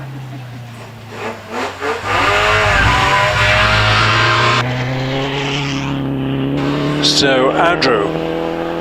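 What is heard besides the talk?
Frazer Nash Super Sports vintage car racing at Prescott Hill Climb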